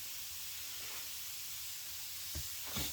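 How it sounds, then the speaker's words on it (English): A LOL Surprise toy fizzing in water gives a steady, close bright hiss throughout, with a couple of short bubbling bursts near the end. "do not touch the water while it's fizzing"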